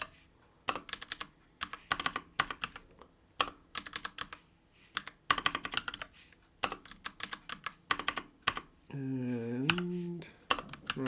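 Fast bursts of typing on a computer keyboard, close and crisp, with irregular clusters of keystrokes and short pauses, and a brief voice sound partway through.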